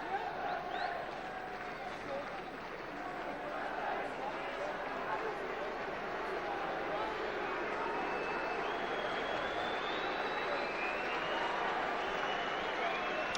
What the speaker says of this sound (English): Jason Scotland just goes off to warm applause from the visiting fans.